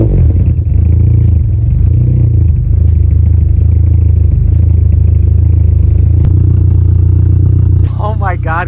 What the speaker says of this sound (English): Let's jumpstart this car and get it started so you can hear it for the first time.